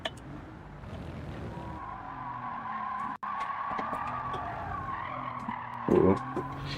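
A video game car drifts with steady tire skidding and squeal over a continuous engine drone, loud and close, with a brief dropout midway and a burst of louder scraping near the end.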